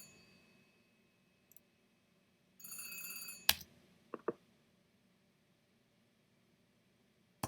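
A telephone bell ringing cue plays through show-control playback software: a short, bright metallic ring burst followed by a few sharp clicks, set against quiet room tone.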